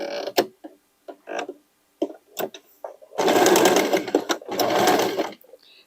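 A sewing machine runs freeform straight stitching to fix a patch onto a pocket of a sweatshirt dress, first in short stuttering bursts, then two longer steady runs, close and loud.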